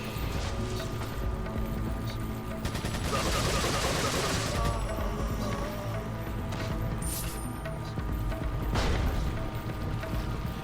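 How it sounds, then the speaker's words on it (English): Continuous gunfire in the Resident Evil 4 video game, bursts of shots and crashes rattling steadily through the whole stretch with a denser volley midway, with voices faintly underneath. "was that the boss getting shot over there?"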